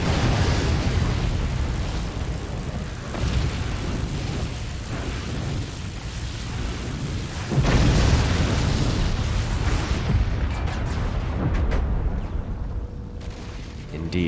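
A core blowing up in the strategy game Forts gives a heavy booming burst that rumbles on, with further blasts and crackling debris after it, loud and dense.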